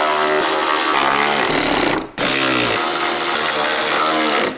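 A power driver fitted with a 3/8 inch socket tightens bolts on a Jeep Gladiator truck bed drawer system. It gives a loud, continuous, whining run close by, with one brief stop before it revs back up.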